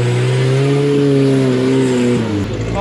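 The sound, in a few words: off-road rock crawler engine revving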